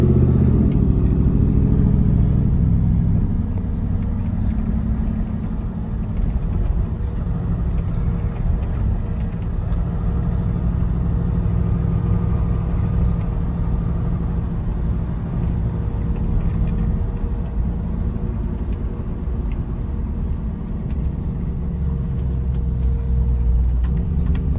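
A 1972 Ford F250 Custom with a swapped-in Coyote V8 drives along on a cool morning, its engine and exhaust a steady loud low rumble throughout with slight swells as it accelerates, heard from inside the cab with no talking.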